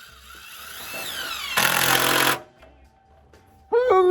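A power drill drives long screws of about 2.5 inches, with a rising motor whine followed by a loud, harsh grinding burst of roughly a second, a quiet pause, then another whirring start, all close.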